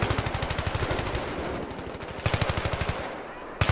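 Enemy automatic gunfire in Battlefield 3 rattles in rapid bursts, a steady stream of shots broken by a short pause before further volleys resume, loud and close.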